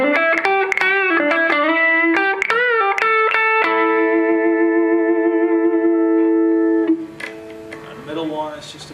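Suhr S4 electric guitar chords played through effects with echo and reverb: a run of quick single strums, then one chord ringing out for several seconds before a brief noisy tail, loud and close with no talk.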